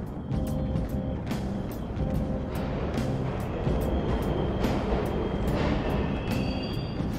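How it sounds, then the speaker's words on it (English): Subway trains rumbling through an underground station in the video game Persona 5 Royal, a steady dense mechanical roar with faint high squeals, continuous throughout and nearby. "The trains are totally running!"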